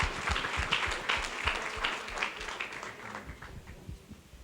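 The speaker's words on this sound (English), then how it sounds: "Let's give them a round of applause for attending tonight." A roomful of people at a senior center budget hearing applauding the Girl Scouts, a dense, steady patter of many hands that thins slightly toward the end.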